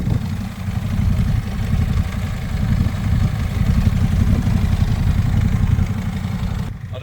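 A Benelli TRK 502 motorcycle engine idles nearby, a steady low throbbing rumble with slight surges that holds for about seven seconds before cutting off sharply at the end.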